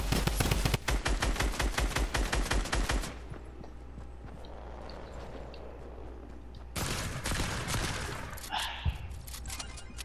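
Video game gunfire, rapid bursts of loud automatic shots close up, then a quieter pause before another burst of fire with a sharp impact.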